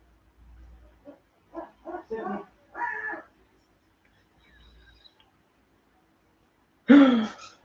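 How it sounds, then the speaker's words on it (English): Seagulls call at a window: a short run of sharp squawking cries, a pause, then one loud close cry in an otherwise quiet room. "we have now been live stream bombed by seagulls"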